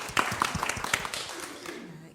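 An audience at a business summit session gives a short round of applause, a brief burst of claps that fades within two seconds, fairly quiet, with a voice speaking over it.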